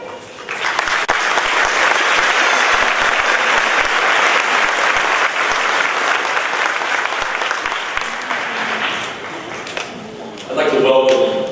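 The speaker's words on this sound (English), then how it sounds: "So if you would give them a round of applause." A crowd applauds at a CCHS/ETA high school graduation ceremony, giving a loud, sustained roar of clapping for about ten seconds before it dies away, and then a voice begins speaking.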